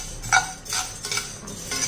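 Chana dal being dry-roasted and stirred in a pan, a few scraping and clinking strokes of a spoon against the metal, near and moderately loud, with no voices.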